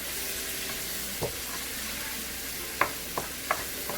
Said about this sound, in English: Just tenderize some tomatoes pretty quick and mix it well.